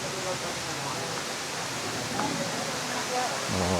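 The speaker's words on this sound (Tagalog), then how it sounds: "so tingnan nyo yung falls" Resort waterfall roaring as a steady, dense broadband wash of falling water, close and fairly loud throughout, with faint voices underneath.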